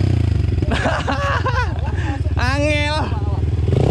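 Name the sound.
motorcycle engine revving on a steep track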